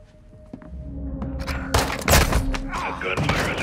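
Gunfire erupts in the Call of Duty Modern Warfare 2 campaign, a burst of loud shots and thuds over game ambience and dialogue.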